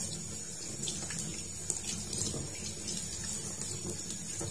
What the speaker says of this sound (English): Wet hands with water.